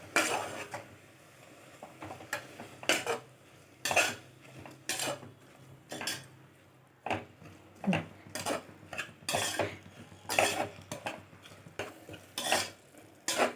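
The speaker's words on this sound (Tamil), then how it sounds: "1 கப்பு முளைக்கீரை இதையே இது எண்ணெயில் போட்டு நல்லா வதக்கிக்கலாம்" Amaranth greens sauté in oil as a utensil repeatedly scrapes and clatters against the pan in uneven, close bursts, with a faint sizzle underneath.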